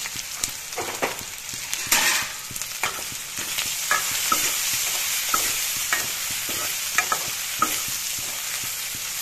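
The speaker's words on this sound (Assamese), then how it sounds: "অলপ সময় ভাজি দিলোঁ।" Food fries in a pan with turmeric and salt, a continuous hissing sizzle broken by regular stirring scrapes and clinks, close and moderately loud, with no voices.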